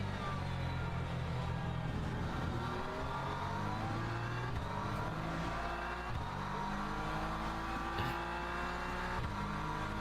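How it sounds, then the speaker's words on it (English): A Porsche race car engine in the Le Mans Ultimate racing game roars loudly and continuously, pitch climbing and dropping through gear changes as other cars run nearby. "This Porsche is quick behind."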